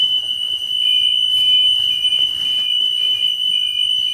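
A continuous high-pitched buzzer on a bus sounds as a warning for the emergency exit window during a pre-trip check. The tone holds steady and loud throughout, with a faint low rumble beneath it.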